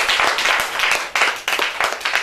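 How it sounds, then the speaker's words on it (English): A school debate audience applauds a comment, with dense, steady clapping from many hands close by and a few louder surges, and no talk over it. "Please, can we clap for this comment?"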